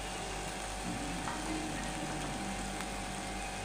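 Steady, dense sizzling of lentils and spices frying in a pan for a Bengali lentil curry, continuous hiss at moderate volume with occasional faint stirring clinks.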